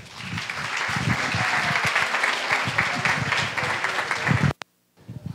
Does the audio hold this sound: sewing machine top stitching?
no